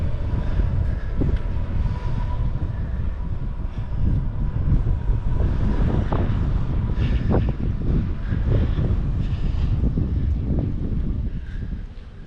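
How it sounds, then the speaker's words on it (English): Outdoor wind buffeting a microphone in the town of Bayreuth, a heavy, continuous low roar with gusty swells that persists loudly throughout and has no speech over it. "Oh, the wind."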